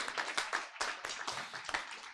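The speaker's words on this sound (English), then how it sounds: "Let's give her another round of applause" A small congregation gives a round of applause at a Sunday celebration service, a brief burst of hand claps of moderate volume with no talking.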